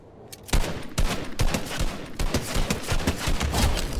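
Rapid bursts of gunfire from the video game Fortnite, loud and close, with repeated sharp shots firing in quick succession across the whole stretch and no talk.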